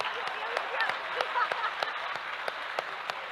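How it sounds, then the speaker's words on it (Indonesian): Audience applause at an Indonesian university rectors' forum event, a steady dense wash of many hands clapping with sharper individual claps standing out, moderately loud and continuous throughout. "Tepuk tangan meriah"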